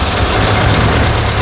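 Engine of a Saab 96 barn-find car running at idle: a loud, dense, rough low rumble that holds steady throughout, with no voices over it.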